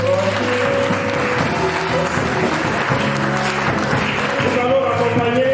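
A church congregation claps and acclaims the Lord at a wedding service, loud sustained applause mixed with voices and music-like tones, continuous throughout.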